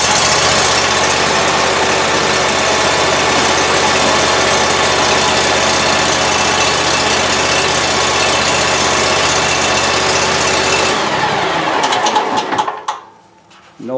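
A Gravely Pro Turn 252 zero-turn mower engine runs loud and close with a steady idling drone, then cuts off abruptly near the end, leaving brief quiet.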